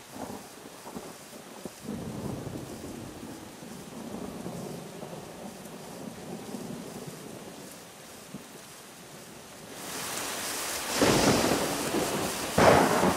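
Heavy rain pours down steadily during a thunderstorm at a sporting event, with deep rumbling thunder and a louder crash building near the end, and no one speaking.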